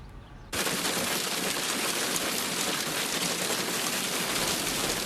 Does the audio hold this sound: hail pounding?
yes